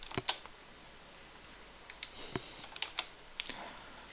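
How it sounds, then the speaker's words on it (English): Computer keyboard typing during a Debian install: a few sparse, crisp key taps and clicks separated by pauses, close and fairly quiet. "Use your keyboard to select install."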